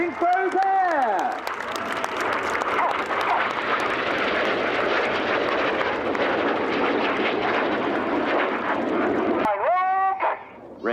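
Red Arrows display jets roar past at the Dunsfold airshow, a loud sustained jet rush that swells and fades, with a second pass surging near the end and crowd noise in the background.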